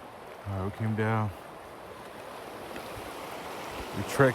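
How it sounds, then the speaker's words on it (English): A river stream flows with a steady, soft rushing wash in the background, joined briefly by a few low voiced sounds near the start and a short noise at the end. "the water streams down from two ways right there to this little point right here."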